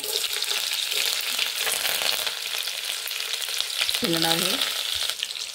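Green chilies and curry leaves frying in hot oil with mustard seeds for cucumber-coconut poha, a steady loud sizzle throughout with a brief tonal squeak near the end.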